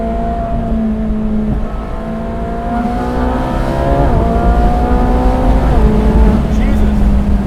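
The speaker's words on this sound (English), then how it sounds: "Sounds like a Formula One car." A 2015 Ferrari 458 Speciale Aperta's V8 screams as it climbs toward its 9,000 rpm redline, the rising howl broken by quick shifts into repeated pulls, loud and close with the engine dominating.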